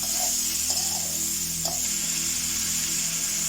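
Tomatoes sauté in a pan with added spice powders, giving a soft, steady sizzle close by, with a few light scrapes and stirs of a spoon against the pan and no talking.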